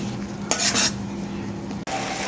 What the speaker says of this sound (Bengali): দিয়ে দিচ্ছি একটু আদা রসুন। মশলাটাকে আমি একটু কষিয়ে নিব।